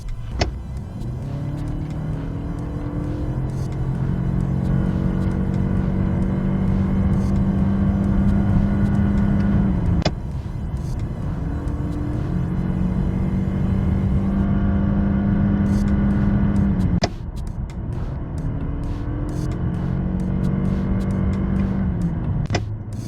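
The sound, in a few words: car engine howling while accelerating hard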